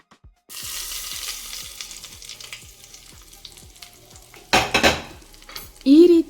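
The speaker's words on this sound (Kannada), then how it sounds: "ಎಣ್ಣೆನ ಚಟ್ನಿಗೆ ಹಾಕಬೇಕು." Hot oil with mustard seeds poured onto ridge gourd peel chutney in a bowl, bringing a sharp crackle and sizzle, then spluttering that fades, followed by louder clatters of a spoon stirring against the bowl.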